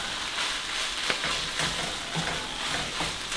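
Pork and Thai basil sizzle and crackle in a hot pan while being stir-fried, a steady, close, rain-like hiss broken by scraping stirs.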